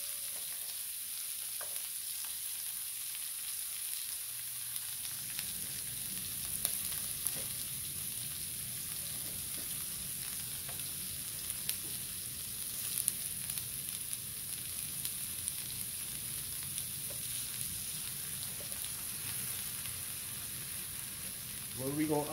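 Steady frying sizzle of onions on a griddle for smash burgers, with a dense, crackling hiss throughout, fairly loud and continuous, with faint clinks of a utensil now and then.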